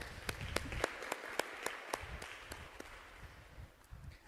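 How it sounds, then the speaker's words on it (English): Sparse, scattered handclaps from a small audience at an election manifesto presentation and Q&A event, a few distinct claps spaced irregularly over low room noise, thinning out toward the end. "Let's all give them a round of applause."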